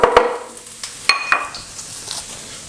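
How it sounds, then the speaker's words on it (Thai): Minced garlic stir-fries in a hot pan, a soft sizzle broken by a few sharp clanks of a metal spatula against the pan, all close and brief. "เราก็เอา กระเทียมสับลงไปสับ แล้วก็ผัดจนเหลืองนะครับ"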